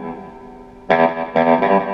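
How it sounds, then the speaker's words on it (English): An electric guitar picked ponticello, right down by the bridge, for a bright twangy tone, with a sustained note and then two sharp plucked notes, loud, close, and lightly processed with effects. "a lot of what he's doing to get that twang is playing ponticello, which means right down by the bridge"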